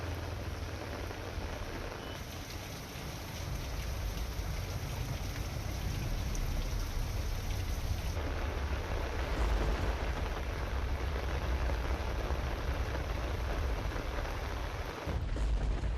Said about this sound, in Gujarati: વડોદરામાં મોડી રાતથી ધોધમાર વરસાદ પડ્યો.